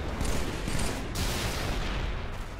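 A vehicle-mounted turret in Halo 3 fires in continuous rapid bursts, loud, dense and sustained, with a short gap around the middle.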